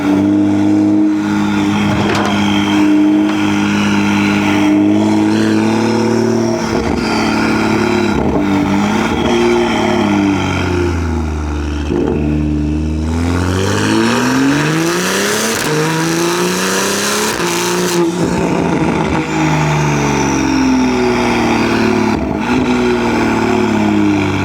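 A BMW M4 G82 with an aftermarket exhaust revs hard close by, its loud exhaust note climbing and falling through several throttle blips and long sweeps, with no talk over it.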